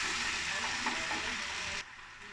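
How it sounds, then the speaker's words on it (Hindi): A puree of onion, tomato, ginger and green chili fries and gets stirred in a hot pan, a loud close steady sizzle that drops off sharply near the end. "प्यूरी को हम भून लेंगे।"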